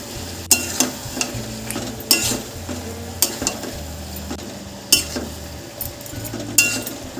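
Chicken mince for keema matar sizzles in a pan as a spoon stirs and scrapes it, with repeated metal clinks against the pan over a steady frying hiss.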